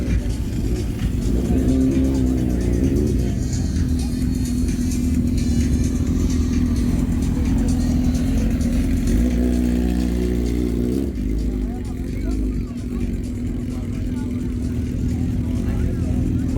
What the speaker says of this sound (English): Bike line up on our road race bikes.